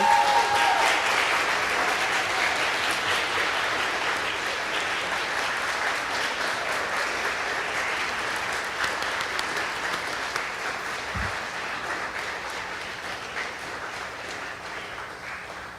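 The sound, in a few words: applause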